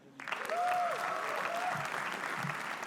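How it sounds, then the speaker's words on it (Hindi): An audience at a comedy roast breaks into a burst of clapping and cheering that holds steady at moderate volume, with a brief voice rising above the crowd. "चिराग पंजवानी के लिए तालियां"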